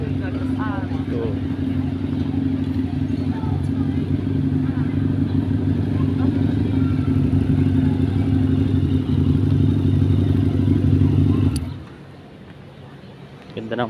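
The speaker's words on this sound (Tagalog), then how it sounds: "ganda ng motor" Motorcycle engine idling close by with a steady low rumble for about eleven seconds, then cutting off abruptly, with faint voices and street noise around it.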